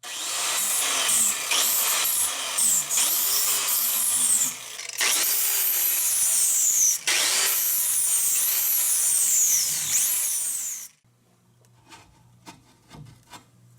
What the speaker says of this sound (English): if I can go ahead and just hit that quickly with my flap disc